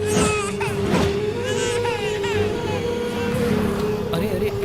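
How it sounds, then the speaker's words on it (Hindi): Crying of a baby heard in a dramatic scene from a Hindi-dubbed South Indian action film, a steady wailing cry over music and background noise, fairly loud and continuous throughout. "क्या बच्चा रो रहा है, हमें जाकर देखना होगा।"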